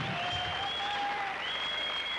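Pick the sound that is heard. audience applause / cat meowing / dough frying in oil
audience applause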